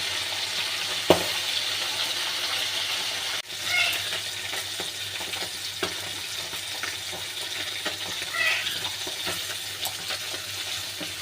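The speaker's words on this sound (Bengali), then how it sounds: "একদম লাল লাল করে ভেজে নেব।" Fish frying in oil in a pan, cooked until deep reddish-brown, makes a steady low sizzle and crackle throughout, with a few sharp clinks from stirring with a utensil.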